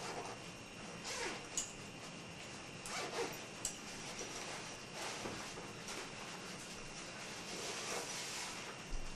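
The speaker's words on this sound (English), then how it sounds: "Sorry for the delay, but this is all the zippers" Clothing zippers being zipped and unzipped, several quick rasping pulls at irregular intervals, fairly close and moderately loud against a steady background hiss.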